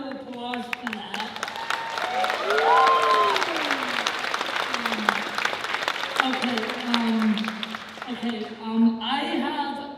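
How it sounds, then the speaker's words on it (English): Convention audience at a Bronycon 2019 interview applauding steadily throughout, with a host speaking over the clapping and crowd noise. "let's give a round of applause for that"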